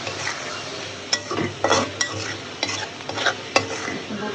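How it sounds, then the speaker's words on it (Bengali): Spice paste with bay leaves frying in a little oil for chicken biryani, a steady sizzle broken by sharp scrapes and clinks of a spoon stirring against the pot. "সুন্দর করে ভাজা ভাজা করি।"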